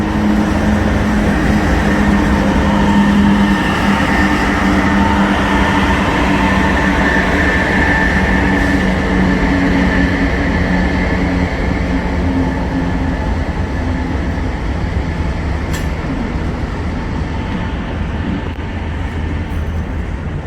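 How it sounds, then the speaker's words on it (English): A train running on the line between Texas and Kansas City, a loud continuous rumble and rail roar holding steady throughout with no talk. "My train."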